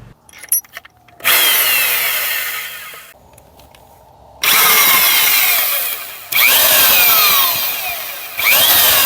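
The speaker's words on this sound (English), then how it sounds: "I'm going to try drilling out the center." A power drill whines loudly in several bursts separated by short pauses, with grinding and rattling during each run, boring out the center of a part on a John Deere 27D mini excavator.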